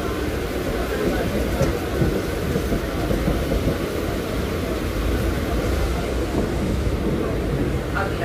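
Mumbai suburban local train running out of Kalyan Junction, a loud continuous rumble and clatter of wheels on track heard from inside the carriage, with faint voices mixed in.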